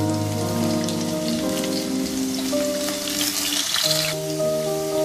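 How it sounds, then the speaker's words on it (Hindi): Onions fry in hot oil in a pan for Hyderabadi fish biryani, crackling in a dense, rain-like patter of close sizzling pops, with steady tonal hums running underneath and no talk. "सबसे पहले ये प्याज जो है इसको फ्राई कर लेंगे"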